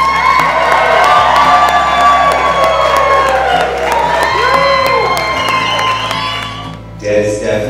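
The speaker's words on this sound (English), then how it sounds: "So let's cheer for it." Crowd cheering and shouting at a family celebration, loud and sustained with whoops and children's voices mixed in, continuous through the stretch before dropping off near the end.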